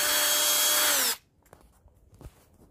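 A power drill whirs loudly and steadily while polishing a car headlight during restoration, then spins down and stops abruptly, leaving faint handling clicks.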